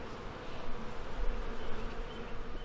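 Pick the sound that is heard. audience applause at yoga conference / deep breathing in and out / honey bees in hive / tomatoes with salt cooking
honey bees in hive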